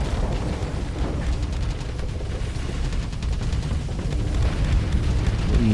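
A missile explosion during a space battle in the Starsector video game: a continuous rumbling blast with crackling debris and rapid defensive fire ticking behind it, fairly distant and moderately loud, with no voices.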